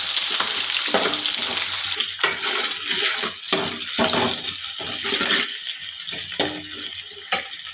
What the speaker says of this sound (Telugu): ఇప్పుడు వేడైంది కదా నూనె. మిరియాలు, లవంగ, ఇలాచీలు, చెక్క, బిర్యానీ ఆకు, సాజీరా వేగినాయి ఫ్రెండ్స్